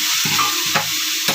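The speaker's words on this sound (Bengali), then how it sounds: "তা বেগুন দেওয়ার পরেও মাঝে মাঝে এইভাবে নেড়ে দেবো" Eggplant frying in a pan is stirred with a spatula in three quick scraping strokes over a steady sizzle, close and clear.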